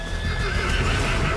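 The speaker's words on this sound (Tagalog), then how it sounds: "Ang laki ng kabayo ko eh." A large horse neighs and whinnies loudly in a roleplay video game, with clip-clop hoofbeats running steadily underneath and no talk over it.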